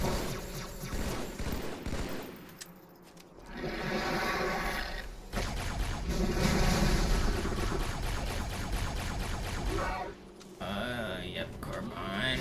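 Rapid bursts of carbine fire in Halo 2 on Legendary difficulty, a dense, sustained rattle of repeated shots mixed with game effects and music, with a brief lull near the middle.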